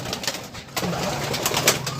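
Pigeons coo softly and repeatedly at close range, low rounded calls over faint background noise.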